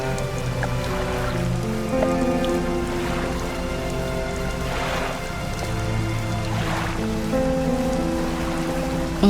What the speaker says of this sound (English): the sound of rain is so nice